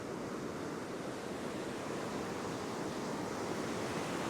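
Turbulent ocean surf washes steadily onto a beach, a dense, continuous roar of breaking water with wind noise over the microphone and no pauses or voices.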